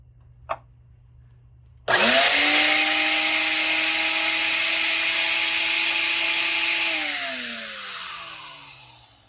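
After a faint click, a small high-speed electric motor wired with wire nuts and clamped in place is switched on and whines loudly at a steady pitch for about five seconds, then spins down.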